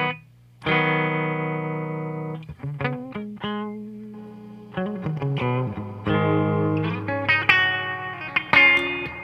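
A Gibson LPJ electric guitar plays through a Fender '68 Custom Deluxe Reverb amp with its reverb on: one sustained chord rings out, then plucked notes and short chord stabs follow, all with a lingering reverb tail.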